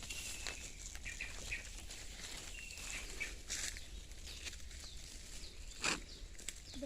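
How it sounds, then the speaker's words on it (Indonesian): Faint birds call intermittently in a natural forest, short chirps and whistles scattered at a distance over a low, steady outdoor rumble, with no voices. "Ada suara burung."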